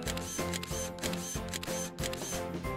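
A camera shutter clicks in quick succession while photographing a donut-shaped squishy cushion with lip balm, crisp rapid snaps repeating steadily over a bright, tonal musical background.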